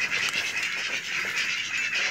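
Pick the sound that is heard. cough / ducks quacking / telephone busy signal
ducks quacking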